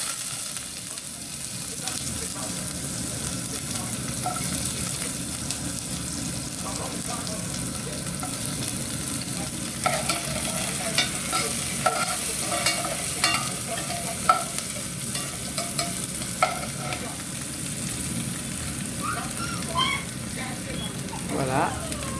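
Onions sizzle steadily in a hot pan for a potato couscous sauce, with a continuous close frying hiss and light scraping stirs that grow busier toward the end.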